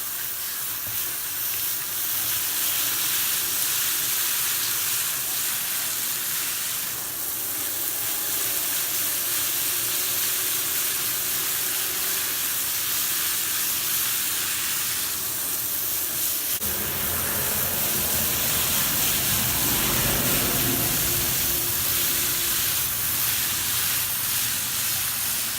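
Running water sprays steadily and hisses while texture is rinsed out of a surface, a continuous broadband wash that swells slightly in its later half.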